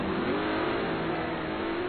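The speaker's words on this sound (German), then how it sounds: "Hier bricht das Auto leicht aus." A GT Masters race car's engine drones steadily and loudly through a long held note as the car slides slightly on the track, with no voices.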